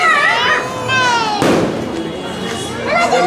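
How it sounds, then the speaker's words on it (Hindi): A Diwali firecracker goes off with one sharp, loud bang in the middle of a festive street celebration in Katihar, while someone talks throughout, close to the microphone. "कुछ युवा भी हैं जो दीपावली के अवसर पर पटाखा छोड़ रहे हैं"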